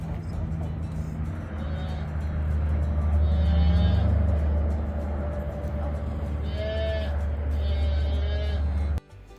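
On a farm, a donkey brays in drawn-out, loud calls, first mid-clip and then twice more near the end, over a steady rumble of background noise.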